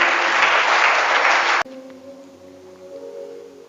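A church congregation applauds and cheers loudly and steadily, a dense wash of clapping that stops abruptly partway through, leaving a quiet room with a faint sustained tone.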